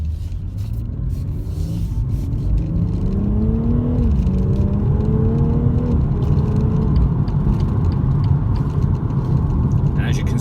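BMW M240i automatic pulling out of a junction and accelerating hard toward 60 mph, a loud steady engine rumble from inside with rising harmonics as revs climb through the gears, a continuous drone throughout.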